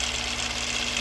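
A sewing machine quilting straight lines runs with a steady, even motor hum that continues without a break for the full second.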